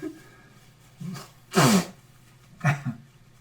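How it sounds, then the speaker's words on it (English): Two or three sneezes at close range, one louder burst in the middle, with soft breaths and short nasal sounds between them. "My wife lets me have 3 sneezes, and then she yells at me."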